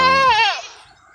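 A pregnant Anglo-Nubian goat gives a single loud, close bleat that wavers and fades out within about a second, with no other sound around it.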